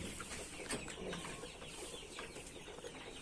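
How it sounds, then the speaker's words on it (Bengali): Laying hens on a small egg farm, soft overlapping clucks and murmuring from many birds spread through a steady barn hubbub, with no single bird standing out. "ছোট্ট একটি খামার, ডিমের মুরগির খামার।"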